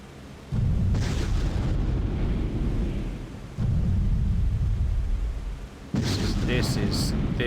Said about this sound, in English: With an audio track of explosions as well.